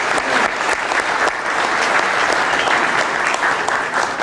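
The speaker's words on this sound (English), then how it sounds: "Let's give them all a round of applause" A large crowd at a USO canteen dance re-enactment applauds the event organizers, a dense, steady wash of clapping that holds at full strength for the whole stretch without a break.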